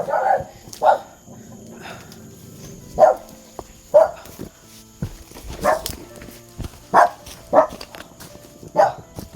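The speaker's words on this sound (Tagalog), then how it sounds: "Yung aso namin." A dog barks repeatedly at close range, sharp barks spaced about a second apart over a faint background murmur.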